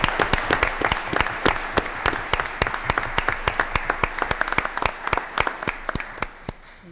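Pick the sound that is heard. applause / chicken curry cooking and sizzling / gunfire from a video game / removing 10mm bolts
applause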